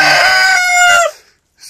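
A rooster crows loudly and close by on an Arizona homestead, a single drawn-out call that breaks off after about a second, with a short cluck afterward.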